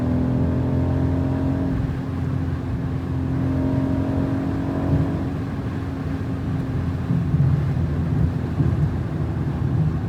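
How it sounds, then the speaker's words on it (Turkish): A 2024 BMW X4 M SUV engine drones steadily and rises gradually as it accelerates on a German autobahn, with road and wind noise filling the cabin. "Görüyor musunuz arkadaşlar nasıl hızlanıyor araba?"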